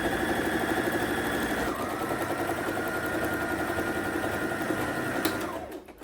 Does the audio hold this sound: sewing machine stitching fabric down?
yes